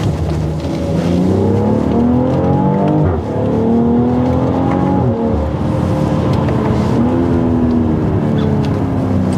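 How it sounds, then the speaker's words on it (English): A 2021 BMW X3 M40i with sport exhaust pulls hard in manual mode through a corner, its engine revving up and dropping back across several gear changes, loud and steady with no talk. "This engine just sounds so good."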